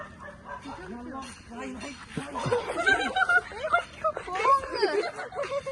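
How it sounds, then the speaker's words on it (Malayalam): Dogs bark in short bursts amid people talking and chuckling nearby. "മാറി മാറി നായ്ക്കൾ വരുന്നു"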